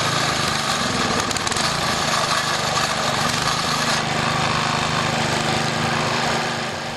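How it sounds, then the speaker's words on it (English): A small gasoline motor on a TranzSporter hoist, started with choke and a pull cord, runs with a loud, steady high-pitched buzzing drone that continues throughout before easing slightly at the end. "To start the motor, move the lever to the right on both the choke and throttle. Pull the cord."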